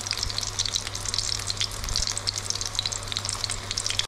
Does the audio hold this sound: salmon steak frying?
yes